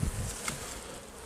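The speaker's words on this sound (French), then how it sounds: "On peut voir qu'il y a déjà beaucoup d'abeilles." Honeybees hum and buzz steadily inside a beehive at the end of winter, a close, dense drone with individual bees passing near, no voices.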